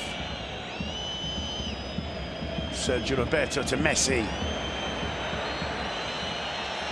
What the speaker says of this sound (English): can hear the crowd raise their game as Messi gets